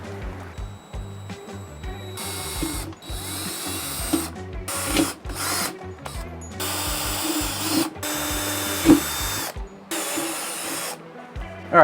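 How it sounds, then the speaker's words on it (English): A power drill with a small bit boring pilot holes for screws during a motorcycle license plate relocation kit install, whirring loudly in repeated bursts that start and stop several times. "Now to drill, we're going to take the small bit first, just to get the first hole going"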